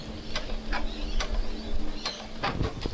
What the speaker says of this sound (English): just going to back stitch